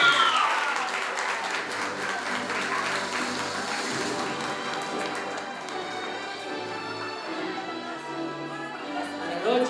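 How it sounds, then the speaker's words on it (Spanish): Applause rises for student Valeria Valdión at a graduation party at Colegio La Merced, loud at first and then thinning under voices and tonal music as the clapping fades. "Un aplauso para la señora."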